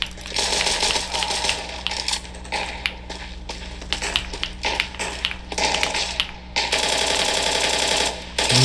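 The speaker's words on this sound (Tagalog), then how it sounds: "Medyo na-gets ko na yung ganong keyboard." Rapid continuous typing on a Zouya HE30 keyboard, dense clacking keystrokes close up and loud, running steadily with a few brief pauses and no speech.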